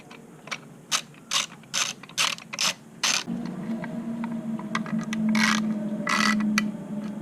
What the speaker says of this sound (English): take your T27 and just run these bolts in